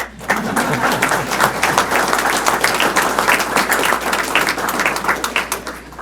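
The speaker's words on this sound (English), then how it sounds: "And you may applaud for them now." Sustained applause from a crowd at a sheriff candidates' debate, dense clapping rising quickly and holding steady for several seconds before easing off slightly at the end.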